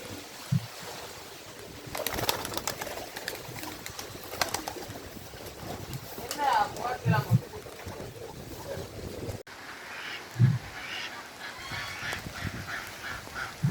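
Scattered honking quacks from ducks on a farm at a moderate distance, a few distinct calls spaced apart over a low murmur of outdoor background noise.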